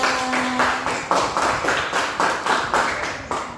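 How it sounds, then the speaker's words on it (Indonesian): A group of students in a classroom claps hands in a rapid, steady rhythm, fairly close, with a faint voice briefly at the start. "Coba tepuk tangan untuk kelompok apel"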